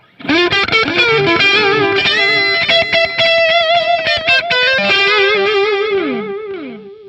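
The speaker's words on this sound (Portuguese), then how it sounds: "se eu quiser utilizar um delay" Electric guitar through a delay effect plays a fast run of notes with sustained, bending tones and repeating echoes, loud and close, with no talking.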